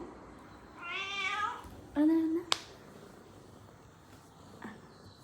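A pregnant cat meows a few times, a drawn-out call and then a shorter one, fairly close, with a sharp snap-like click between the calls in a quiet room.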